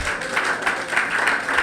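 Church congregation applauding during a Spanish-language sermon, a short burst of steady clapping from a crowd filling the room at moderate loudness.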